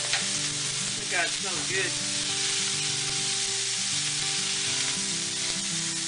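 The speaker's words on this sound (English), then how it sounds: "this is 8 ounces of, I'm using baby Bella's" Eight ounces of baby bella mushrooms fry in a pan with a loud, steady sizzle that holds throughout, while a voice briefly speaks over it.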